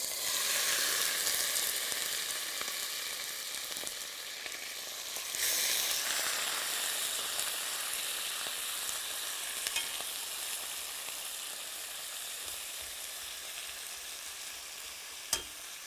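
Rabbit pieces fry in very hot lard for a rabbit and chestnut cachafrito, a continuous crackling sizzle that surges briefly midway, then settles a little quieter, with one sharp clack just before the end.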